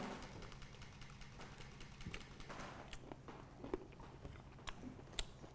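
Someone bites into a crunchy profiterole during a chaotic home cooking challenge, giving a run of faint, close crackly crunches and chewing clicks over a low background rumble, with no talk.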